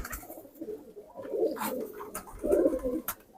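A pigeon of a prized racing breed coos nearby in soft, low, rolling bursts, two fuller phrases rising over faint background clatter and a few clicks, with no speech.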